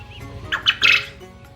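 A few short, high calls from European white giant coturnix quail, squawky chirps in a quick cluster, heard close against a low background hum.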